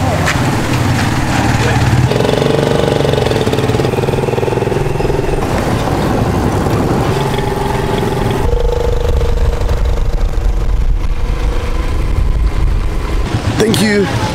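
Motorized tricycle engine droning loud and steady throughout a ride in the Philippines, with rumbling, rattling and shifting revs close up, and a voice briefly heard over it.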